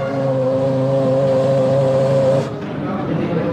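Ferrari Formula One car on tire testing for the 2002 season at a test track north of Florence, Italy, a loud high-pitched engine whine held steady then cutting abruptly as the car passes away.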